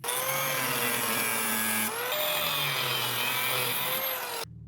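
A power tool cuts the heads off rusty screws on a generator being scrapped for copper, a continuous loud whining grind with a brief pitch shift midway, alone and close.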